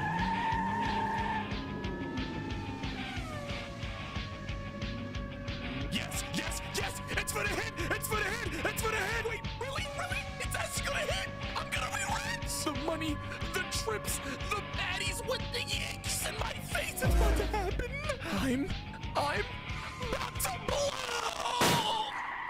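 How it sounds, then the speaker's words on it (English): A race car in an esports-style racing game screeches through a long tire skid over a steady engine roar, with a sharp blowout thump near the end and voices talking throughout. "I blew the tire"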